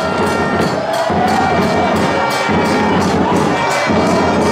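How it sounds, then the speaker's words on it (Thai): Stadium crowd at a friendly football match, Trang FC versus Narathiwat United, cheering and clapping for both teams after a 3-2 result, a loud, dense roar with shouting voices and periodic dips over four and a half seconds. "ขอเสียงปรบมือให้กับ นักกีฬาทั้ง 2 ทีมด้วยครับ"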